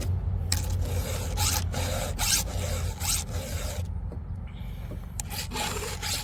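Hand file rasping across a chainsaw chain's cutters in steady, evenly spaced strokes, each a short scraping burst with brief pauses between, close and fairly loud, no talking.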